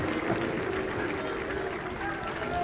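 Ryder Cup golf gallery in 2006 calling out "Luke" for Luke Donald, a sustained drawn-out "woo"-like crowd chant filling the whole stretch with broad, steady murmuring.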